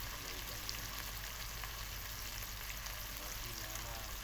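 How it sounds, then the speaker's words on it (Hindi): Onions fry lightly in a pan for a Punjabi-style potato, pea and carrot mixed sabzi, giving a steady, even sizzle that runs unbroken throughout at moderate level. "इस तरीके से प्याज को इतना सा हमने गोल्डन करना है। और हल्का सा इसको फ्राई करेंगे।"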